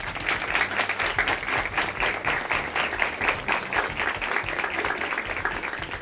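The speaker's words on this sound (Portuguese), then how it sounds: "Uma salva de palmas para vocês mesmos, gente." An audience at a debate session claps for the participating students, dense sustained applause from a crowd filling the whole stretch at an even level.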